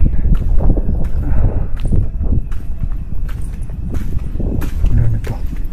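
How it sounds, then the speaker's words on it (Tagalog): Wind gusts at midnight around an abandoned factory in Cavite, a steady low rumbling buffet across the whole stretch, with scattered footstep-like knocks mixed in and no clear voices. "Mahangin."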